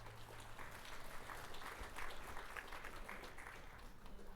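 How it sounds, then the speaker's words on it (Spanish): Church congregation claps together after a prayer, a steady faint patter of many hands at a distance, continuous and even for several seconds. "Un aplauso al Señor."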